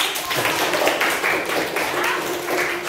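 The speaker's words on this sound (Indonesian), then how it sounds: "Tepuk tangan untuk kita." A school class claps together in a steady, scattered patter of applause lasting a few seconds.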